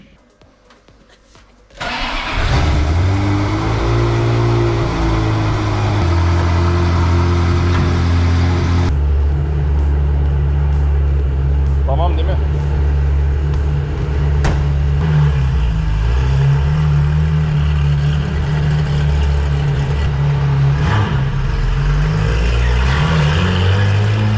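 A Ferrari sports car engine starts and settles into a loud, steady idle with occasional revs, close by and continuous, with no talking.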